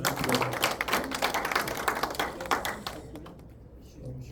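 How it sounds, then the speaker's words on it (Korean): Audience applause at a Korean literary seminar: a dense, steady patter of many hands clapping fills the room for about three seconds, then fades out, with faint voices murmuring underneath. "다시 한번 박수 보내주시기 바랍니다."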